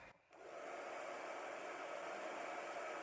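Hair dryer fitted with a diffuser, switched to its cool shot after running on medium heat, giving a steady close whoosh of blown air that starts abruptly after a brief quiet moment and holds evenly.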